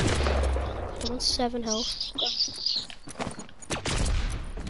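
Gunfire in Fortnite on PS4, scattered shots crackling close by in short bursts while a player talks excitedly over the fighting.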